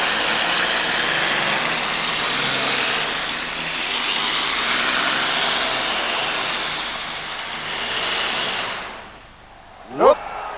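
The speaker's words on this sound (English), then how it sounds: "So he's building a lot of horsepower out of these Allison V12 aircraft engines." A modified pulling tractor powered by Allison V12 aircraft engines roars as a loud, steady broadband drone through most of the run at a 1989 New Jersey pull. Near the end it drops off sharply and a brief rising whine follows.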